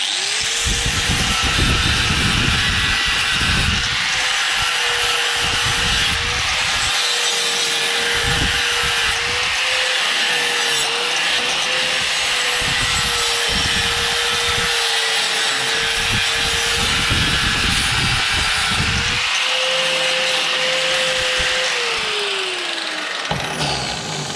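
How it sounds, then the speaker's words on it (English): A power sander with an 80 grit sanding disc grinds steadily with a high, continuous whine that holds for a long stretch, loud and close, with slight dips in pitch as pressure changes. "I'm using 80 grit sanding disc"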